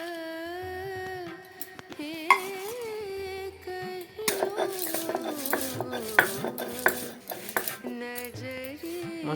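Fried spices are worked on a stone shil-nora grinding slab with a series of knocking, scraping strikes over steady background music, for a raw mango makha recipe.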